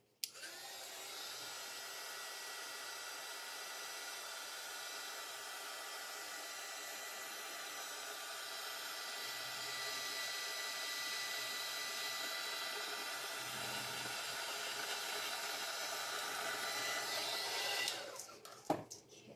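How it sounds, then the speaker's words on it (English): A heat gun blows hot air over a trinket dish in one steady, loud, continuous whoosh lasting nearly twenty seconds, then cuts off abruptly at the end. "I might even hit it with my heat gun for a sec."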